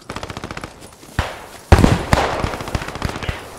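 Machine gun fire in the Post Scriptum war game: rapid rhythmic bursts of shots, then heavier, louder booming volleys from nearby weapons mixed with distant crackling gunfire.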